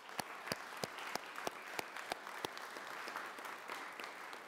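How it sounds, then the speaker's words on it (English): Applause at a school committee meeting, a modest group of people clapping steadily, fairly distant and moderately quiet, without talk over it. "Let's give them a big round of applause."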